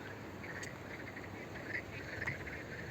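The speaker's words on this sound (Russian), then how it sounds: "И лягушек много квакает." Frogs croak in the nearly dried-up Nishava river, now more swamp than river, a faint, continuous chorus of trilling calls with insect-like chirps mixed in, distant and even, with no voices.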